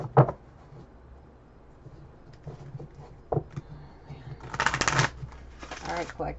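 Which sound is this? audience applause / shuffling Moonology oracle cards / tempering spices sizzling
shuffling Moonology oracle cards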